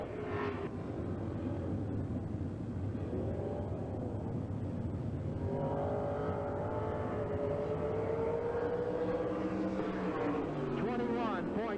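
A Bullitt Camaro race car in a time trial at Hagerstown Speedway, its engine droning steadily from a distance and rising and falling in pitch as it circles the track, under a loudspeaker announcer's voice.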